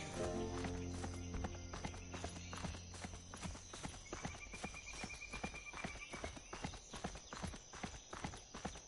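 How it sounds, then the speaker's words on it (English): Horse hooves clip-clop steadily in the fantasy game Seven Deadly Sins Origins, an even rhythmic walking gait up close under ambient game music, with a brief whinny-like tone midway. "Oh, a horse."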